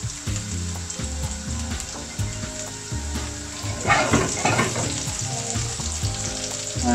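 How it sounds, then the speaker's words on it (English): Butter ghee sizzles and fries in a pan while Chicken Madras is cooked British Indian restaurant style, with a steady crackle, some stirring and clinks, and a louder burst partway through. No one speaks. "So we add a little bit of butter ghee."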